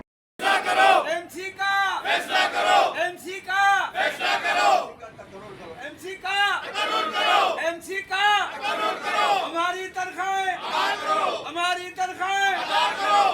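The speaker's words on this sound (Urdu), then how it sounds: "اس موقع پر شدید نعرے بازی بھی کی گئی، وہ بھی سنواتے ہیں، سنیے۔" Protesting union workers, municipal staff demanding unpaid salaries, chant slogans in loud rhythmic unison, call-and-response bursts repeating over and over with a short lull midway.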